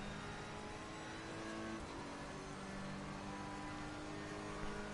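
Race car engine running steadily close alongside in the racing game Assetto Corsa Competizione, a continuous loud mechanical drone with rising and falling revs, no voices.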